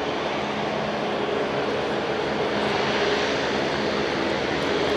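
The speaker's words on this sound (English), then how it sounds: "taxiing around the airfield" An Airbus A350-900 XWB airliner taxiing around the airfield after its first flight, its engines giving off a loud, steady roar that holds without a break.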